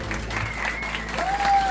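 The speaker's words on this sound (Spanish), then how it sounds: "Fuerte ese aplauso para él." Studio audience applauding on a Latin American variety show as a maestro is introduced, a steady wash of clapping under a busy room with a brief whistle-like tone near the end.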